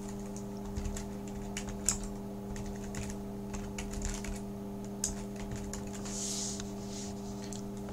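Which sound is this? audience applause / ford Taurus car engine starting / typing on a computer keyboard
typing on a computer keyboard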